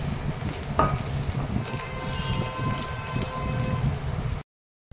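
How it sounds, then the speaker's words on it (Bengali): Makhana (fox nuts) fry in a pan with a soft crackling sizzle and scattered light pops, fairly quiet and close, before cutting off abruptly near the end. "এইবার আমি মাখানাগুলো ভাজব।"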